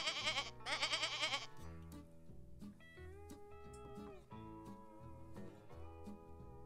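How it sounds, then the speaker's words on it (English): A gray farm goat bleats loudly in a few quavering, wavering calls at the start, then fades under a bright, cheerful instrumental music backing that carries on to the end. "Here's the gray goat."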